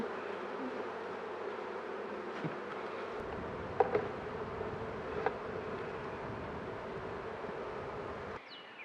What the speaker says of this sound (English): there's a gnat or something that was flying right in the lens